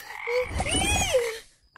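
A cartoon frog croaks in an animated children's episode about tadpoles turning into frogs, a single loud, close, warbling croak with a rising then falling pitch, standing alone without talk.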